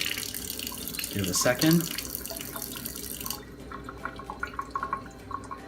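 Water running from a Kangen water machine set to 9.5, a steady tap-like stream with a brief louder splash early on, then a softer trickle, while a person says a few words over it.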